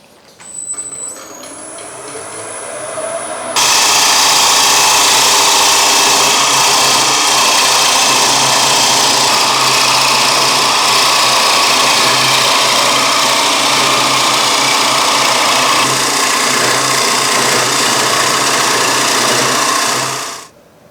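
A wood lathe spins a bowl blank as a Simon Hope Easy Core tool cuts into it, giving a loud continuous hiss and whine that starts abruptly and runs steadily for about seventeen seconds before stopping.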